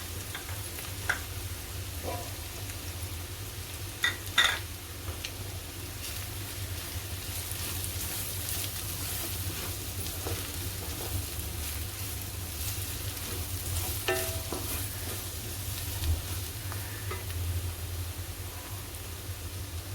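Spices frying in hot oil with ginger-garlic paste for a cauliflower and pea curry, a steady close sizzle and hiss throughout, with occasional light clicks and scrapes of stirring.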